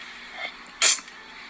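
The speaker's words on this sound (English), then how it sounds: "I just sneezed and touched my nose" A single sharp sneeze bursts out close and loud while making homemade slime, with quiet room tone before and after.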